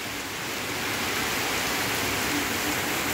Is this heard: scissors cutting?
no